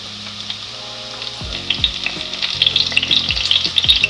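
Lobster tails sauté in butter in a cast iron pan, a bright crackling sizzle that grows louder and busier, with low knocks and scrapes from utensils against the pan.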